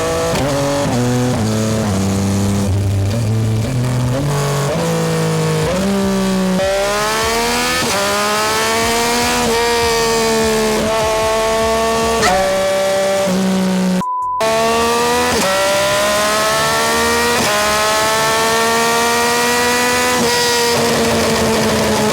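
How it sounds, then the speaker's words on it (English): A Yamaha R9 sport motorcycle revs hard through its gears on the quick shifter, its loud, close engine note climbing again and again with crisp breaks between shifts. The engine stays loud and continuous for over twenty seconds, with no talking. "This quick shifter and auto flip is crazy"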